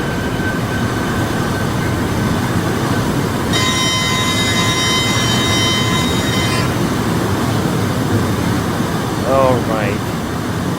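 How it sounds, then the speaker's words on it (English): A train's rail cars rumble loudly and continuously in the RO-Scale Sandbox game, a steady rolling roar with a sustained tonal whine for a few seconds and a short squeal near the end, with a voice talking over it. "the rail car sounds are pretty loud"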